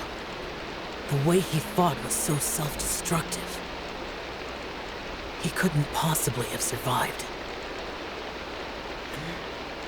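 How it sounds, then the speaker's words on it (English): Steady Minecraft rain hiss runs continuously in the background of a Genshin Impact playthrough, soft and even, while voiced game dialogue plays over it in two short bursts. "what you're hearing right now is the Minecraft rain sound"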